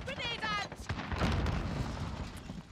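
A grenade explodes in Call of Duty: Modern Warfare, a dull booming blast amid gunfire in an online match, with a player talking over the game sounds.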